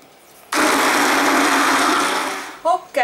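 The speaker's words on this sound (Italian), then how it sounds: "prendo la marmellata e prendo un frullatore ad immersione" Immersion blender purees about 300 grams of peach jam, starting abruptly after a short quiet pause and running as a loud, steady whir for about two seconds before it fades and a brief voice follows.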